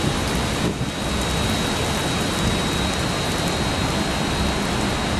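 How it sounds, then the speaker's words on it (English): Steady, loud rain from a thunderstorm shower on Long Island pours down in a dense, even hiss, with no voices. "It's just a gentle shower."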